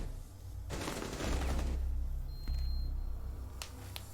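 Gunfire in Rainbow Six Siege sounds as a quick burst of rapid shots followed by a few isolated cracks, fairly faint and distant.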